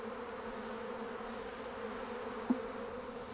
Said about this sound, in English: Look at that nice healthy amount of bees there.